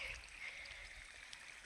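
Irrigation water from a motor-driven pump flows into the first bed of an onion field. It makes a faint, steady stream-like rush with a soft hiss that holds evenly throughout.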